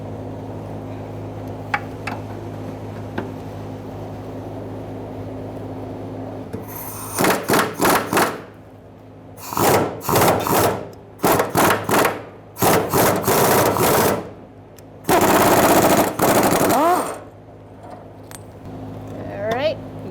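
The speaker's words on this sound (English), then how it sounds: "Using a 13mm socket and an extension, I'm going to loosen my bolts for the straps" Bolts on the fuel tank straps of a 2000-2007 Ford Taurus 3.0L V6 being loosened with a 13 mm socket and extension: bursts of ratcheting, scraping metal work over a steady low hum, in several separate spells.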